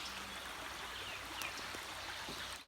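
A rain-swollen creek along the Archer's Fork Loop Trail in Wayne National Forest in spring flows with a faint, steady rushing wash and no talk.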